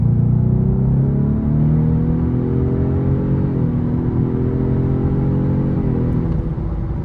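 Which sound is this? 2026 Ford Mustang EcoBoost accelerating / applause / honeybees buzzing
2026 Ford Mustang EcoBoost accelerating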